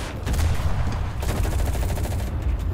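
A Pz. 38(t) F tank firing in the Enlisted game, muffled booming shots amid rumbling engine and battle noise, fairly distant and dense.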